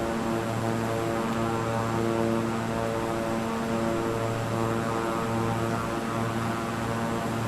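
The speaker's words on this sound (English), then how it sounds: "A plane with propellers. It's a Cessna something." A Cessna propeller plane in a flight video game drones steadily at close range, its engine giving a constant layered hum with a throbbing propeller beat and no break.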